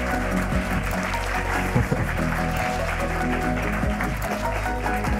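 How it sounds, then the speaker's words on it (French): A conference audience at the Assises du Grand Paris 2024 applauds, with scattered clapping spread over a loud, sustained bed of low, droning music or hum that dominates the sound throughout. "si vous pouvez les applaudir"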